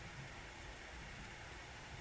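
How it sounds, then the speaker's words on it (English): Steady rain in the Grand Tactician video game hisses as a constant, even wash of sound with no breaks and no talking, soft and spread evenly throughout. "and it is still raining"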